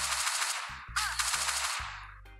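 Gunshots in the mobile survival game Last Day on Earth, a quick run of sharp, loud firearm cracks in close succession, each with a short tail, heard alone without talk.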